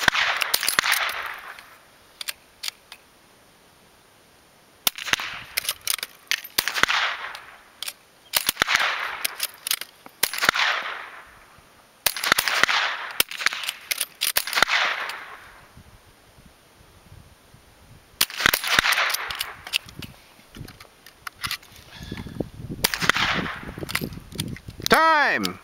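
Rapid volleys of sharp .22 sporter match rifle shots crack out at an outdoor shooting match, firing in irregular bursts with brief pauses between, close and loud against open-air background.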